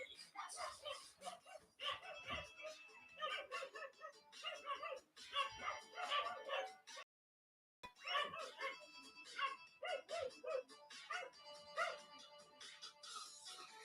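Several dogs bark, yip and whimper in a scuffle, with bursts of overlapping barks coming in rapid clusters and a brief silent gap partway through, loud and close.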